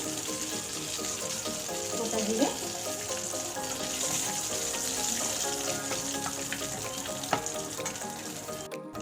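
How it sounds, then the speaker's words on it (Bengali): Whole cumin seeds sizzle in hot oil left from frying vegetables, a soft continuous crackling hiss with a few sharp pops and faint scrapes, heard alone at a modest level. "এবার এই তেলের মধ্যে আমি সব মশলাগুলো কষিয়ে নেব। দেবো কটা গোটা জিরে"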